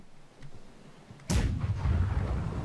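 Ship cannon fire in the naval video game Blackwake: a quiet rumbling lead-in, then a single sudden loud blast with a long rolling boom that stays heavy and rumbling to the end.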